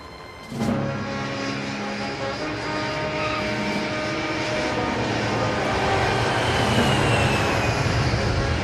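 Airplane engines during the climb after takeoff, a continuous loud broadband roar with steady droning tones that rises slightly and holds without break.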